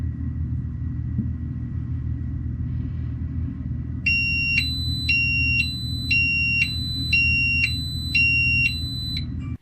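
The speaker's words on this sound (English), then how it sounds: "Check out the SimpleSENCE Leak and Freeze Detector." A SimpleSENCE leak and freeze detector alarm goes off midway, a loud high-pitched electronic beep pulsing in about seven rapid repeated bursts over a steady low rumble that runs throughout.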